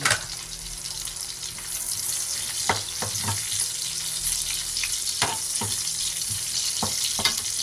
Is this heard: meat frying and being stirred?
yes